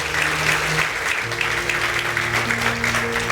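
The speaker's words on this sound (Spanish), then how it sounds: "si le va a aplaudir, apláudale a Dios" A church congregation claps together during a sermon, steady applause with a low sustained organ or keyboard chord sounding beneath it.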